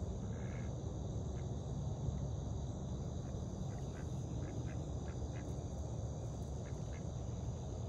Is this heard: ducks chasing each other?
yes